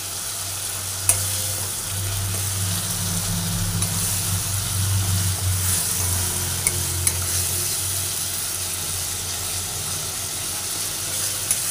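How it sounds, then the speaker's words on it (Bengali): Spice paste for a rohu or katla fish curry fries in oil while being stirred, a loud, steady sizzle with scraping stir strokes and a few sharp utensil clicks throughout. "যতক্ষণ না এটা মশলাটা ভাজা হয়ে তেল বের হচ্ছে ততক্ষণ পর্যন্ত আমি মশলাটা নেড়ে কষে আমি কিন্তু মশলাটা কষাবো"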